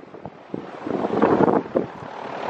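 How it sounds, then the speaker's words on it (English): Strong wind gusting across an open backyard garden, a loud roaring rush buffeting the microphone, swelling and easing over a few seconds. "It is very windy"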